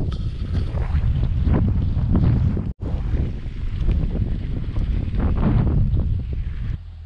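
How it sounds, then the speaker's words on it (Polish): Strong headwind roaring across the microphone during a bicycle ride near Łódź, a steady loud buffeting rumble that fills the whole stretch with only a brief cutout, and no talking. "Czołowy wiatr nie ułatwia jazdy."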